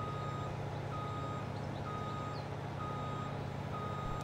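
Evenly spaced electronic reversing beeps from a tractor truck backing up to park in the Farming Simulator 22 video game, repeating steadily over a low engine hum, fairly quiet and with no talk.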